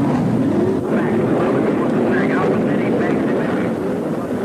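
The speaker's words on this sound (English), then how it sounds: "Most engines have been started and everyone is cleared off the track." Racing car engines from the 1957 British Grand Prix rumble continuously on the grid before the start, a dense, loud drone with no break.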